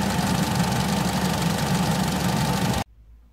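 A Vauxhall Corsa D 1.2 petrol engine warming up toward operating temperature during a service, a steady close idle drone that cuts off abruptly near the end.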